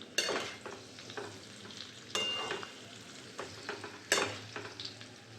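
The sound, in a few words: stirring spices with salt and turmeric in a pan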